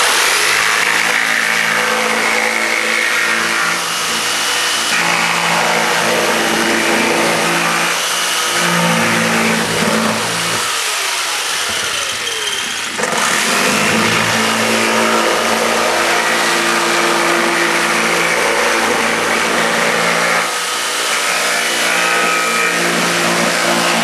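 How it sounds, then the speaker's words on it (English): A jigsaw cuts through wood for model terrain building with a steady, loud motor whine that runs almost without a break, its pitch wavering slightly as the blade works, and no voices. "if I take a jigsaw, I can do the same work in half the time"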